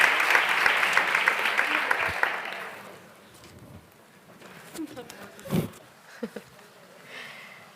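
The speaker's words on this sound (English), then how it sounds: "An applause for you." An audience at a live empowerment event bursts into loud applause that fades after a couple of seconds, followed by quieter room noise and a few scattered bumps and voices.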